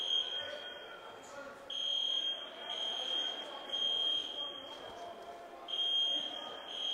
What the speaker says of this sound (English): It looks like somebody pulled the fire alarm.